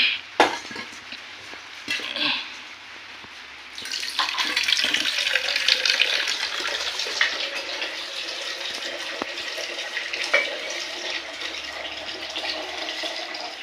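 Water splashes and pours steadily while making mango pulp (aamras), starting softly and growing fuller partway through, with faint clinks in the background.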